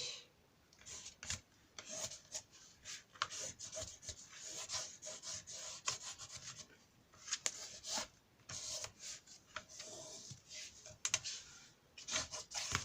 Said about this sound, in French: on passe notre plioir dedans pour bien marquer et pour que les bords soient bien écrasés.